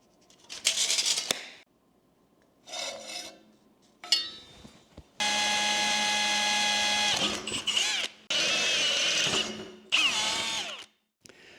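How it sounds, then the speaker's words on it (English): An electric drill whines in several bursts, some short and some sustained, biting through a metal storage rack with a high grinding tone between quiet pauses. "So I just need to drill a hole through each one of these"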